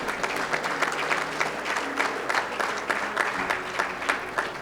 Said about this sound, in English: Let's clap it out again one more time for Ms. Crump.